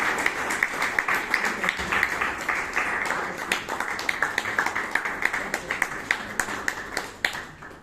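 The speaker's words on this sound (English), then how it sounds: "Let's give it a round of applause" A Toastmasters meeting audience claps for a speaker, a rhythmic, moderately loud patter of hands with distinct individual claps that gradually thins toward the end, and voices murmur underneath.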